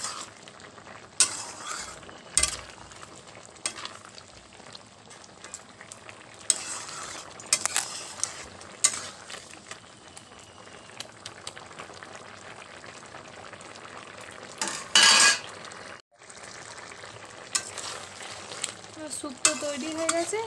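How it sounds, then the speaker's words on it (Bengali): A roasted ground spice mix of dried chilli, coriander and cumin is stirred into dudh sukto frying in a pan, with a steady sizzle under frequent scraping and tapping strokes and a louder clatter near the end. "ভাজা মশলাটা দিয়ে দিয়ে ভালোভাবে নেড়ে নেব"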